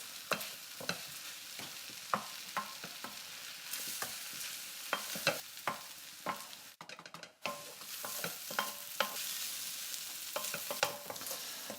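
Risotto rice fries with mushrooms in a pan, with a soft steady sizzle broken by repeated scrapes and knocks of a spoon as it is stirred. There is a brief pause midway, then the stirring resumes, close and fairly quiet.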